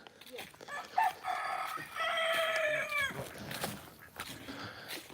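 A rooster crows at an animal sanctuary, one long rising and falling crow ringing out loud and close, with clucking chickens and scattered voices around it.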